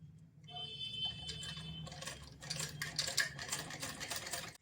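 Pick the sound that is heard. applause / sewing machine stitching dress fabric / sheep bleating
sewing machine stitching dress fabric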